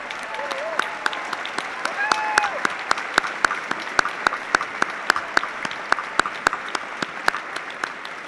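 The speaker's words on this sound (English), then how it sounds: "please rise if you are able, or raise your hand so we can recognize you with a round of applause" Sustained round of applause from a commencement ceremony audience, steady dense clapping with sharp individual claps standing out throughout, fairly close and loud, with faint voices murmuring underneath.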